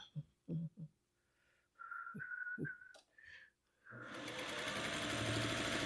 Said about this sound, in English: I'm just going to sew them together and to make a bigger triangle